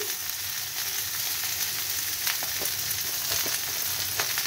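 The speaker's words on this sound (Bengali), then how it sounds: "কাঁচা লঙ্কা কালো জিরেটা ভেজে ভেজে নিচ্ছি।" Green chillies and black cumin frying in oil, a steady close hiss and sizzle with a few faint clicks and taps from stirring, no voices.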